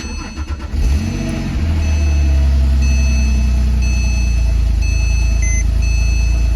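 A Porsche 911 engine cranks briefly, then catches and settles into a loud, steady idle with a high electronic chime tone sounding over it.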